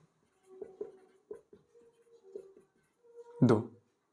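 Pen scratching out a quadratic equations maths question on paper: short strokes in several separate bursts, close and fairly quiet, ending in one sharper tap.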